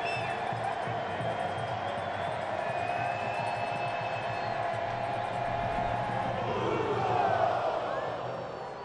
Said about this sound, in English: Crowd into it on a Saturday night in El Paso, Texas.